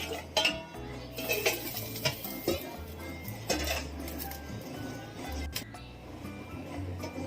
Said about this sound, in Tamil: நல்லா மிக்ஸ் பண்ணிவிட்டு இப்போ மூடி வச்சிடலாம்